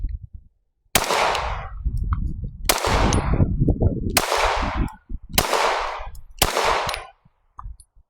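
Compact pistol shots from a Glock 43X or Shadow Systems CR920XP firing 124 grain TMC rounds at a flat screen TV: five loud, sharp cracks spaced about a second apart, each with a ringing tail.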